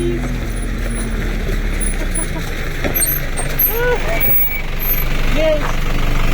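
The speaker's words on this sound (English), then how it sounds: "The truck which I saw on the way up is going down now" A truck drives down a mountain road in Oman with a low, steady engine rumble and occasional mechanical clanks, fairly close, while voices can be heard faintly over it.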